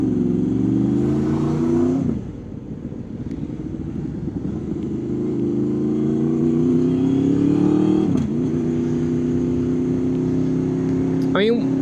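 A car creeps slowly into oncoming traffic and stops across a car park entrance, its engine a steady close rumble with a few slight revs and shifts, under continuous nearby talk.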